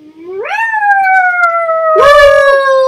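A single drawn-out video game puppy howl rises sharply in pitch, holds steady, then breaks into a second higher yelping howl; loud, close, and alone without talk.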